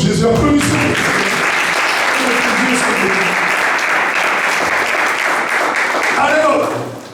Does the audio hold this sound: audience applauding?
yes